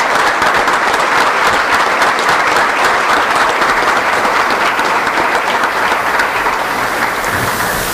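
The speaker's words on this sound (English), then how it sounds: "If you would stand up and let everybody give you a round of applause, please." A luncheon audience for a scholar-athlete awards event applauds, dense sustained clapping from a full room that holds steady and loud throughout.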